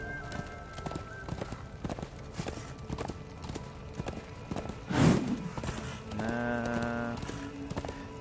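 Rhythmic clip-clop of horse hooves at a steady gallop in the video game Darksiders II, with a brief whinny midway and a game tone sounding near the end.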